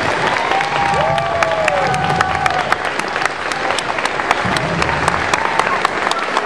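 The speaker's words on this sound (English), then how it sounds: "round of applause for these guys" Audience at a junior theatre production of Peter Pan Jr applauding young performers, loud sustained clapping with crowd cheering and a whistle-like tone, continuous and close throughout.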